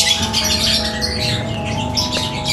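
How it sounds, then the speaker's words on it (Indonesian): A white-rumped shama chirps and twitters in quick bright bursts, up close, over a steady background hum. "Ini burung saya ini namanya si Tandes ini"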